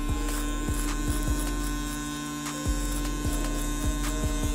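An electric hair clipper buzzes steadily and close during a self-administered haircut, with a constant mains-like hum and repeated brief clicks and shifts as it moves.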